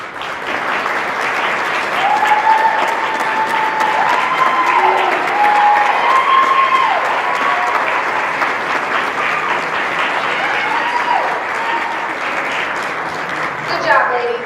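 Steady, dense applause fills a county pageant hall as the audience keeps clapping for the contestants. The clapping holds at an even level from start to finish, with a few whoops and faint voices mixed in.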